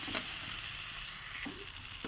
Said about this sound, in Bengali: দিয়ে আমি ভালো করে মশলাটা কষিয়ে নেব।